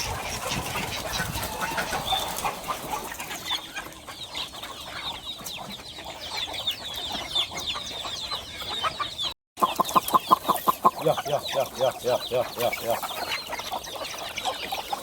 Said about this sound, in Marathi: बघू शकता किती कोंबडे आहेत